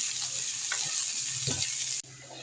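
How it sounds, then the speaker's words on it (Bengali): Onion fries in a pan with a soft continuous sizzle, a few faint knocks and stirring scrapes over the hiss, and a brief abrupt drop near the end before the sizzling resumes. "এবার পেঁয়াজটা ভেজে নেব।"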